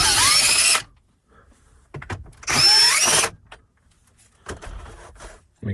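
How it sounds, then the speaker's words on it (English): A power drill backs out screws holding plastic trim in a Ford Explorer Police Interceptor Utility dashboard. Two loud, close whirring bursts about a second long sit apart from quieter clicks and handling noises. "I'm using a drill because I'm just removing it"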